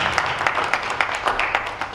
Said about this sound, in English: Shall we applaud all of them for responding to our questions?